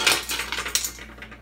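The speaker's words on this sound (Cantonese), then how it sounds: "我哋將啲冰糖擺晒落個煲嗰度" Pieces of rock sugar dropped into a metal pot for making water chestnut cake, giving a quick series of bright clinks and rattles that are loud at first and then fade.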